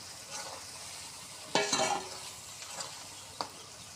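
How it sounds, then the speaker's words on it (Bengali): Raw fish going into a pan of tomatoes cooked down with spices, sizzling quietly, then a louder burst of frying and stirring around the middle, followed by a few softer scrapes. "এখন আমরা কাঁচা মাছগুলো দিয়ে দিব"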